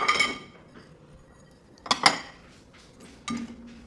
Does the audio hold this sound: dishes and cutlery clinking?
yes